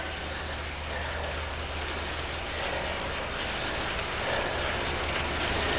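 Bicycle drivetrain on an indoor trainer shifting gears, a soft mechanical ticking and whir over a steady broadband hum of the trainer, fairly faint throughout.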